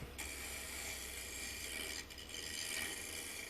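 Steady, continuous rasping of hand sanding on wood, close and fairly even throughout, with a brief dip in the middle.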